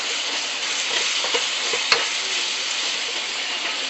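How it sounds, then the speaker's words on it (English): Sirloin beef strips seasoned with soy sauce and pepper sauté in a hot pan. A steady, loud, close sizzle fills the whole stretch, broken once by a single sharp clink of a utensil. "So I put some soy sauce, pepper, yeah, and then just saute it."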